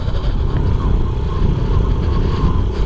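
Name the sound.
1993 Honda Z50R motorcycle engine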